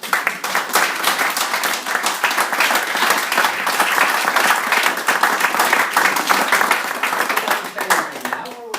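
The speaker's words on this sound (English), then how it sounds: "Give them a round of applause for that." An audience gives a sustained round of applause, with loud, dense clapping running steadily from start to finish and some faint voices underneath.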